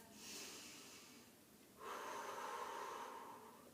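A deep breath taken during a strength training exercise: a soft, close inhale followed by a longer, louder exhale, with no talking.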